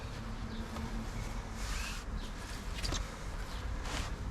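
A swarm of honeybees climbs a board ramp up to a hive, giving a steady, close insect hum with faint rustling and no voices.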